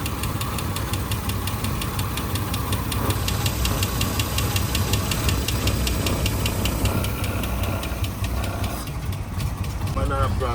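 A 1999 Mercedes ML320 engine runs roughly with a leaking, holed airbox hose near the mass airflow sensor, giving a loud, close, continuous uneven knocking rumble with rattly, irregular pulses.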